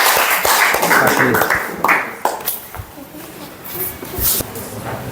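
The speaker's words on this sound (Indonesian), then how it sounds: "tepuk tangan untuk kelompok 1" A classroom gives a short round of applause for a group that has just presented, the scattered claps mixed with rustling and voices in the room.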